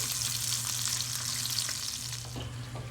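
Sausages fry in a pan with a steady, close sizzle and crackle, with light scraping and shifting as they are flipped, a low hum running underneath.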